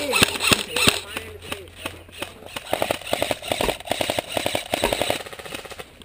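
Airsoft guns fire outdoors in rapid bursts of sharp pops and clicks, some in quick automatic strings and others as single shots, with voices shouting over the shooting.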